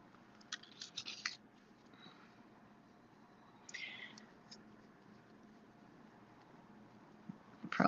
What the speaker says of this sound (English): So I'm just going to fold all these up. Accordion fold them